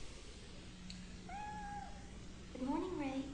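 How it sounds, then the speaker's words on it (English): A cat meows inside the horror video game Fatal Frame 3, two short tonal cries, the second louder and lower, heard over a steady droning game background. "Kitty. Is that a kitty?"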